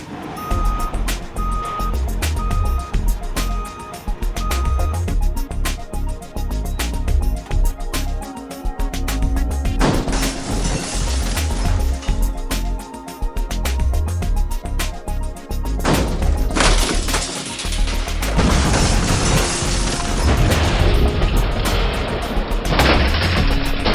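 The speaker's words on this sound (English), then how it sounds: "the car is placed into the mobile car smasher" A mobile car smasher crushes a scrap car at a recycling yard, with heavy machinery rumble, repeated cracking and crunching impacts, and steady reversing beeps throughout, loud and continuous.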